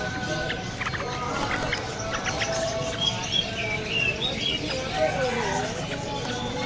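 A sooty-headed bulbul from Bondowoso sings at a bird market kiosk, its faint chirps and whistled phrases nearly buried under steady market chatter and people talking nearby.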